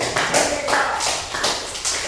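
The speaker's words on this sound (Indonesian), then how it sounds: "Coba tepuk tangan untuk Bahtiar" A classroom of students applauds a classmate, Bahtiar, with a steady patter of hand claps lasting a couple of seconds, fairly close and moderately loud.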